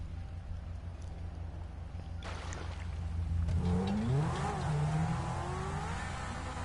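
A car engine in GTA 5 revs and climbs in pitch, with tire-like squeals and rising whines swelling in the second half over a steady low rumble, fairly loud and close.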